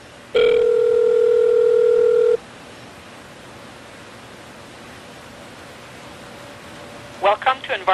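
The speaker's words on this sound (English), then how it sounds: "the dial tone came right on this time." A steady telephone dial tone from an Obihai 200 VoIP adapter hums loudly for about two seconds, then cuts off; a few touch-tone beeps follow near the end.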